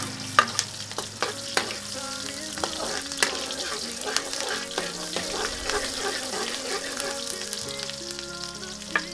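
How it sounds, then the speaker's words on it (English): Onions frying in hot oil for a Filipino pork kare-kare stew, with a steady crackling sizzle throughout and repeated clicks and scrapes of a utensil stirring the pan, close and fairly quiet. "so now we're adding the onions"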